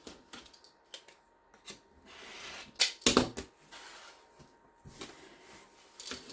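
Scissors cut off the corners of fabric for a mitered-corner placemat: a few sharp, crisp snips close by, with one louder cluster of cuts in the middle and quiet gaps between.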